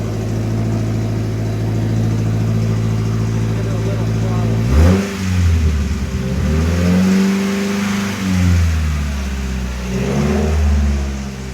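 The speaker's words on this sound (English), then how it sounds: "It doesn't have an exhaust, so it sounds like a truck." A 2018 FB25 engine swapped into a 2013 Subaru Forester and run without an exhaust, idling with a steady low drone, then revving up sharply and falling back twice, loud and close like a truck.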